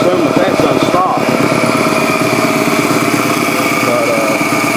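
An air compressor runs steadily during an overhaul, giving a continuous mechanical chugging drone. Someone talks over it throughout.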